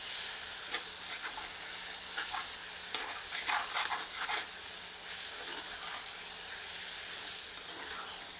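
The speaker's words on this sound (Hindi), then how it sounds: "5 मिनट उपरांत अच्छी तरह करछी चलाते हैं।" Chicken curry masala frying in a pan while a ladle stirs it, a steady sizzle and hiss with several louder scraping stirs in the middle, close and alone.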